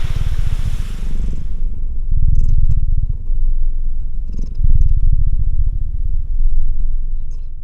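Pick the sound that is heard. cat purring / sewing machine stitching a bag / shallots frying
cat purring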